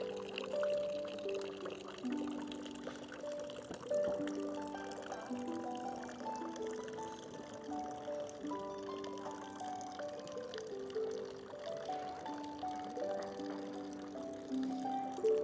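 Steady splashing of an 1872 water fountain in a village on the Swiss–German border, a continuous wash of water with melodic music playing over it throughout.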